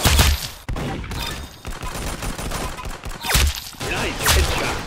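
Rapid gunfire bursts in the online shooter Arsenal, loud and close, several volleys with brief gaps between them over about five seconds.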